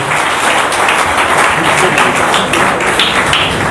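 Audience applause welcoming Maître Christian Bossembe to the podium at a formal gathering in Mbandaka, a dense, steady wash of many hands clapping at close range, sustained evenly without talk.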